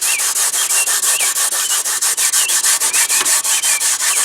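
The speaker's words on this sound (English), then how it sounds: "Now I'm finna take this maroon Scotch Brite, tear it in half, and just start sanding everything down," Rapid, rhythmic scrubbing as a maroon Scotch-Brite pad is rubbed back and forth, scuffing a car interior surface before dyeing, close up and steady, with no talking.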